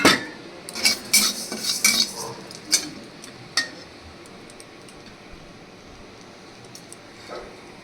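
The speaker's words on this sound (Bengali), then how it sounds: "এই গোবিন্দভোগ চালটাকে একটু কড়াইতে ভাজা ভাজা করে নেব।" A spatula scrapes and clanks against a kadai while Gobindobhog rice is stirred and dry-roasted: a flurry of sharp metallic knocks early on, then only occasional faint taps over a quiet background, with no talk.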